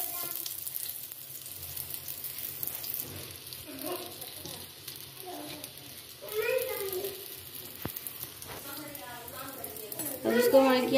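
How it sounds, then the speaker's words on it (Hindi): Laccha paratha coated in ghee fries on low heat in a pan, a steady soft sizzle running throughout with occasional utensil scrapes and a voice talking over it. "अब इसको हल्की आंच पर फ्राई कर लेंगे।"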